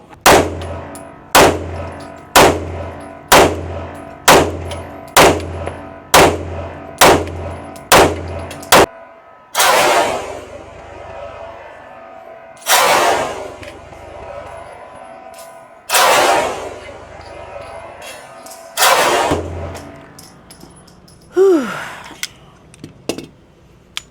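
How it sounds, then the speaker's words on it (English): A Sig Sauer P211 / Kimber 2K11 comp pistol fires in a quick string of about nine evenly spaced sharp shots, then several slower, spaced reports, loud and close with no talking. "That's just buttery, smooth shooting."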